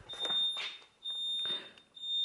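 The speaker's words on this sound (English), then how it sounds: "I gotta hurry because the alarm's on" Smoke alarm beeping in a home, a steady high electronic tone repeating in short bursts, fairly loud and close, with faint background movement and no talk.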